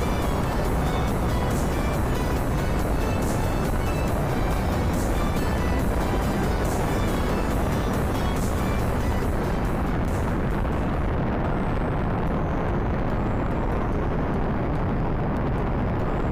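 An Atlas V's RD-180 rocket engine roars through launch ascent, a loud, dense, continuous rumble with crackle that holds steady throughout, its upper hiss thinning slightly toward the end.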